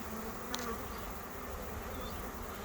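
A honey bee swarm hums steadily in a bee yard, a dense, continuous insect buzz filling the whole stretch at close range with no talk over it.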